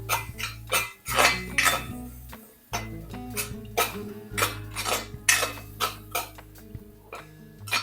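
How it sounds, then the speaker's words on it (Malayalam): Chilli powder and spices stirred in a pan, a spoon scraping and knocking against the metal in a string of irregular clinks and scrapes close by, with no voices. "ഒരു ടീസ്പൂൺ പിരിയമുളക് പൊടി, എല്ലാം നല്ലതുപോലെ മിക്സ് ചെയ്യാം"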